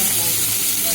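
Tomatoes hit hot oil in a pan while chicken curry cooks, giving a loud, continuous, even sizzle close up with no break.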